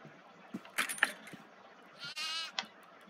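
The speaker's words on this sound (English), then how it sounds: "I think I'm making goat noises." Goat bleating in the horror video game Devour, a single wavering nasal bleat near the end, preceded by scattered clicks and rattling game sounds.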